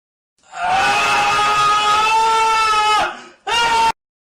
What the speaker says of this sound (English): I was interrupted by screaming coming from outside the school.